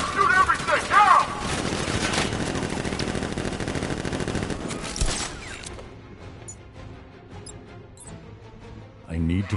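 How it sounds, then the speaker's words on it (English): Militia gunfire erupts in Gotham Knights as dense, rapid automatic bursts with crashes, loud for about five seconds before thinning into scattered faint shots and game noise, with a voice talking over it. "Open fire! Shoot everything! Now!"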